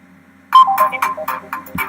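An iPhone ringtone, edited in GarageBand or Audacity, plays back as a bright, clear melodic sequence of repeated electronic tones in an even rhythm after a short quiet start, loud and close with no voices.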